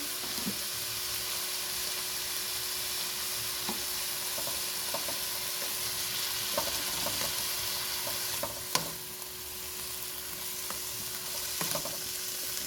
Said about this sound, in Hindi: हम अदरक लहसुन के साथ, प्याज के साथ और जीरे के साथ कीमे को ये देखिए फ्राई कर रहे हैं।